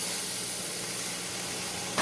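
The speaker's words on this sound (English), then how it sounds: "See how it's starting to steam?" Steady, loud hiss of steam rising from wood chips while meat smokes indoors, an even broadband rush that stays constant throughout with no talking.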